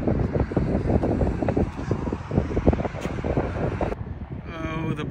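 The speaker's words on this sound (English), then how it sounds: "It's windy." Chilly wind blows across Boston Harbor on a Saturday morning, a constant rumbling gust buffeting the microphone, near and moderately loud.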